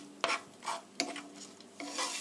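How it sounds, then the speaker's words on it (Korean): Green onions stir-fried in oil at medium heat, several quick scraping stirs over a light sizzle, close and quiet. "3분 정도 볶아주세요. 파에 기름이 나오기까지"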